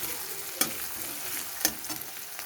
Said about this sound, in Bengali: দুটোই পেঁয়াজ রসুন ভালো করে ভেজে নেব